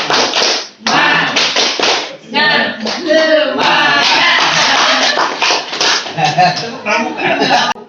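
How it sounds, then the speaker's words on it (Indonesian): Teachers at a training session clap together in short rhythmic bursts separated by brief pauses, loud and close, with some voices and laughter mixed in. "Tepuk semangat yuk."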